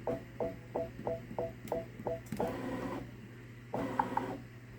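A Baby Lock Solaris Vision embroidery machine stitches a peacock design, its needle tapping in a quick regular rhythm over a steady motor hum, then breaking into a brief faster whir before settling again.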